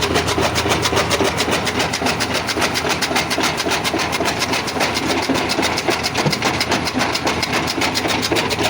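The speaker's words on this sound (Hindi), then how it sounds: "ट्रैक्टर लगा के टोका मशीन उत्ते जानवरों के चारे की कतराई कर रहे हैं" A tractor-driven chaff cutter chops animal fodder on a village farm, giving a loud, steady mechanical drone with a fast rhythmic clatter and engine rumble throughout, close by, with no talking.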